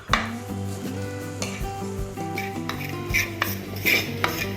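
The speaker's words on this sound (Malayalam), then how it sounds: "മൺചട്ടി നന്നായി ചൂടായതിന് ശേഷം തേങ്ങ വറുത്തെടുക്കുന്നത് വളരെ ലോ ഫ്ലെയിമിൽ ഇട്ടിട്ട് വേണം" Crushed coconut roasting on low flame in a hot clay pot, with repeated scraping and clinking stirs of a spoon against the pot over a faint sizzle and steady background tones.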